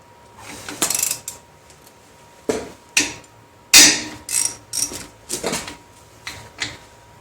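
Wrench work on the bolts of a brake caliper bracket on an off-road Envoy, heard as a series of sharp metallic clicks and clanks in irregular bursts, close and fairly loud with quiet gaps between.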